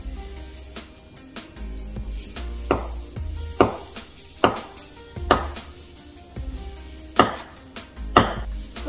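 Knife slices through salad produce on a cutting board in about ten sharp, evenly spaced thuds, each with a brief crisp crackle, close and clear with no talking.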